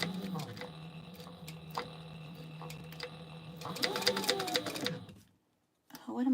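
A sewing machine runs a steady top stitch while a TPU wristlet is being made, whirring close and continuous for about five seconds before stopping. Someone talks over the machine.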